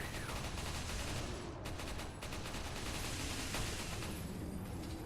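Rapid bursts of gunfire ring out in Resident Evil 4, dense and loud almost throughout, with shots crowding into a continuous volley and brief gaps near the middle.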